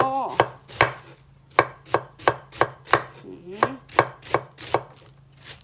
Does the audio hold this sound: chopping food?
yes